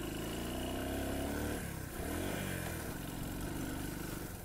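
A Honda 125 XR enduro motorcycle engine runs close by, a steady mid-pitched drone with a brief dip and rise in revs midway, fairly loud and without speech.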